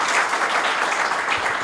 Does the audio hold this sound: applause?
yes